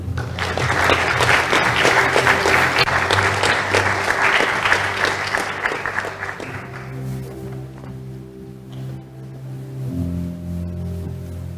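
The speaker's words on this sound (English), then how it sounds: "how about one more round of applause" Audience applause at a school first-day ceremony, a dense, steady roar of many hands clapping for about six seconds, then fading to scattered claps and a low hum of room noise.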